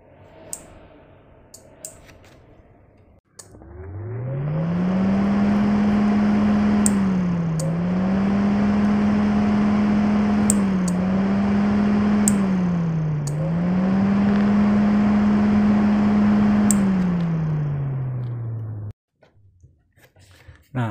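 A small electric fan in a homemade automatic hand dryer spins up and whirs steadily for about fifteen seconds, with a droning hum that dips slightly a few times before winding down and stopping.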